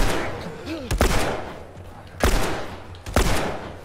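Three sharp gunshot bursts ring out roughly a second apart in The Last of Us Remastered combat, loud and close over a low rumbling game background, with a speaker's voice faintly talking between the shots.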